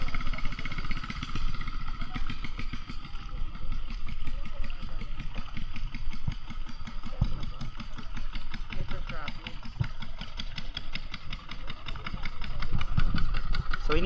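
A motorized boat engine runs steadily on a river at Pagsanjan, Laguna, a continuous mid-pitched drone that sounds close and fairly loud, with voices talking over it throughout.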